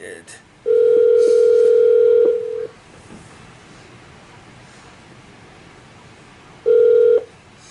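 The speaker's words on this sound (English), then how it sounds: "I'm calling you now. Answer the phone." The ringback tone of an outgoing telephone call sounds loud and clear in two long steady bursts, one early and one near the end. Faint background noise fills the quiet stretch between them.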